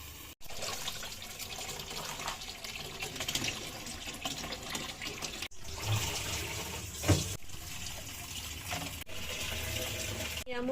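Running water splashes and gurgles as sandy leafy greens are rinsed and handled, with brief pauses and sloshing bursts, close by.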